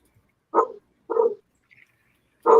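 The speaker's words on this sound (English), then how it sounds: "Who's woofing?" A dog barks in a few short, sharp bursts spaced about half a second apart, fairly close and loud, with a faint yip in between and no talking over it.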